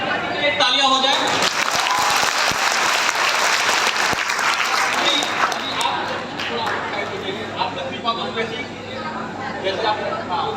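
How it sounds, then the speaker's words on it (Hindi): Audience at a motivational speaker's live event in Mumbai applauds steadily for about ten seconds, dense and loud clapping with crowd murmur and talk over it. "एक तालियां हो जाए।"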